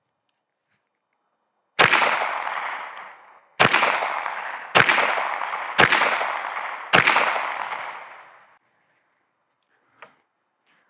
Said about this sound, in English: Let's see what happens when we shoot 5 more rounds.